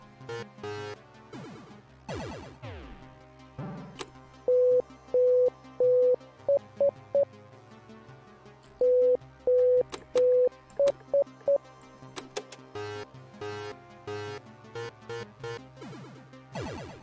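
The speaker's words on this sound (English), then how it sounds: "This is Morse code, basically." Electronic Morse code beeps play in a video game demo, a series of clean, loud tonal pulses in short and longer groupings with a higher trio after each run, set against soft game background sounds.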